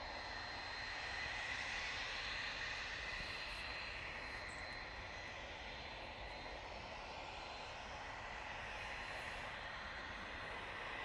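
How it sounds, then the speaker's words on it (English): A NetJets business jet inbound from Guernsey to Manchester Airport, heard as a steady, fairly faint broadband engine roar that holds evenly throughout, with no voices over it. "we do have NetJets coming in from Guernsey"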